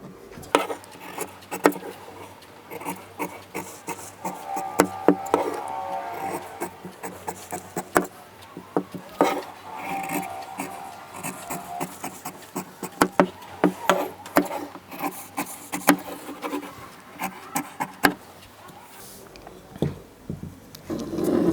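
Scissors cut through blouse fabric along a pattern piece, giving repeated close rasping snips and rubbing sounds. A voice talks quietly now and then.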